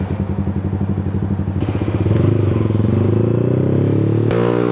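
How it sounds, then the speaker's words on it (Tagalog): A Sniper 155 motorcycle fitted with a high flow air filter idles with a rapid pulsing throb, then its loud, raspy intake note rises and holds as the engine revs, heard close up. "pansin ko lumakas yung tunog dito sa intake noise"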